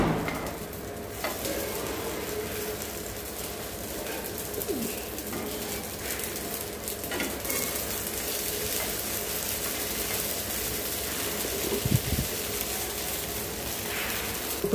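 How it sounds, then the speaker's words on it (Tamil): Idli pieces fry in a pan until golden brown, giving a steady, moderately quiet sizzle with scattered small crackles and pops and no talking. "வறுத்து எடுத்துக்கோங்க."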